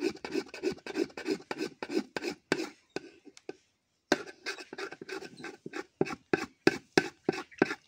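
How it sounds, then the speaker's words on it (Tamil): Thickening palm-sap jaggery stirred in a pot for a homemade karupatti, heard as a steady run of rhythmic scraping strokes, close and fairly loud, with one brief pause midway and no talking. "விடாமல் ஒரு பத்து நிமிஷம் கிண்டி விட்டுக்கிட்டே இருக்கணும்"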